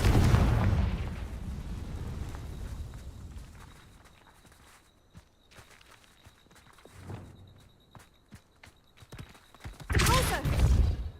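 Confringo spell explosion in Hogwarts Legacy, heard as a loud booming burst at the start and another heavy blast near the end, with quieter footsteps and small impacts in between.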